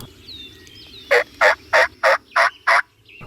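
A wild turkey in a hunting setting gobbles in a rapid run of six evenly spaced, rattling notes, fairly loud and fairly close, with faint birdsong chirps before it.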